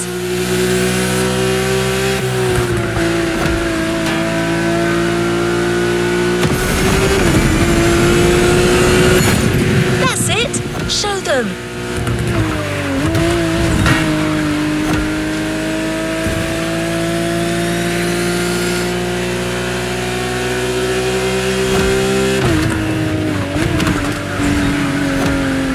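A Lamborghini races in The Crew Motorfest, its engine loud and close. It revs and shifts up through the gears, and the pitch drops sharply between runs of acceleration. Brief squeals and passing whooshes break in around the middle, and no one speaks.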